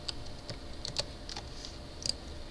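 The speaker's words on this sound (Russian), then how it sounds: "Дальше зажимаем Alt и набираем циферки, какие справа на клавиатуре." Keys clicking on a computer keyboard as digits are typed on the numpad with Alt held down, a few sparse, close, light taps over a low background hum.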